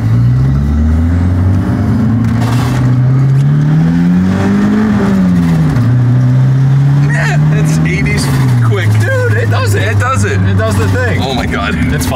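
A Merkur XR4Ti engine revs under a suspected rod-knock condition, a loud, rough, rumbling drone rising and falling in pitch with a gritty mechanical clatter, close and continuous throughout.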